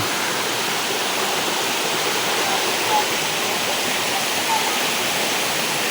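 Nalalata Falls in Bula, Camarines Sur, Philippines: a continuous, loud, close broadband rush of falling water, steady throughout with no distinct breaks.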